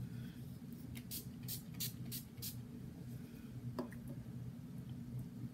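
Several quick, soft hissing spritzes of a fine mist of makeup spray in a row, faint over a low background hum, followed by a small click.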